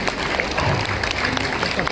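Applause from an audience at an office-bearers' installation ceremony, a steady dense patter of many hands clapping, close and loud, with voices mixed in underneath.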